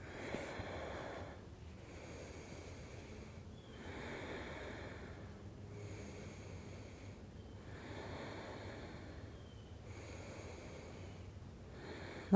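Slow, deep breathing during a yoga pose, audible inhales and exhales repeating about every two seconds, soft and close with a faint airy, rushing quality and no talking.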